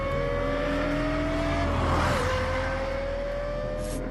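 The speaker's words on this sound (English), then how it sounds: "Only a high-revving V10 engine supplies this combination of power and sound" The high-revving V10 engine of a Lexus LFA screams steadily at a sharp, piercing pitch, loud and close, its tone dipping briefly as the revs shift before climbing again.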